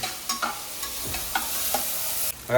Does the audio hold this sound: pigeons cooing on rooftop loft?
no